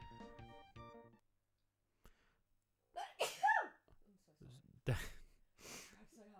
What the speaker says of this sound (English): That was my partner sneezing in the background